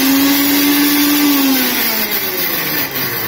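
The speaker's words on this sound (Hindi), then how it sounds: "थोड़ा आप रुक रुक कर मिक्सी को चलाएं ताकि वो जो पीसेस हैं वो अच्छे से ग्राइंड हो जाएं।" A mixer grinder blending fresh figs whirs loudly and continuously close by, its motor pitch dropping slightly as it runs.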